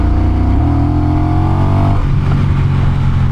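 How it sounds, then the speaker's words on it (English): Honda Rebel 1100 DCT SE motorcycle engine with a deep, loud induction growl, steady and close, its pitch shifting partway through as the revs change, with no talk over it. "It's got a nice induction growl."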